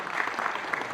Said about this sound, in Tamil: அது நல்ல கிளாப் பண்ணலாம்.